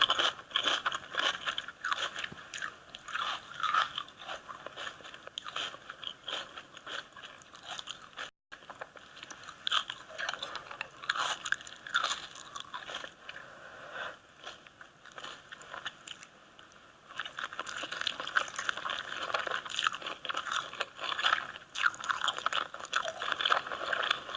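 A woman eats noisily close to the microphone, continuous wet chewing, crunching bites and lip smacking in an uneven rhythm, with no talk.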